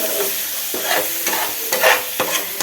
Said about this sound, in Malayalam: ഇച്ചിരി പച്ചവെളിച്ചെണ്ണയും കൂടെ ഒഴിച്ച് ഒന്നും കൂടെ ഒന്ന് ഇളക്കി കൂട്ടിയെടുക്കാതെ